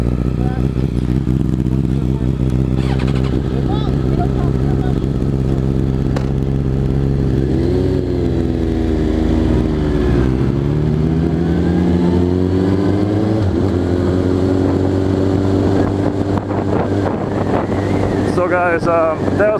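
A friend's sport motorcycle rides past, its engine note rising and falling as it revs and passes by, loud and close with wind buffeting the microphone.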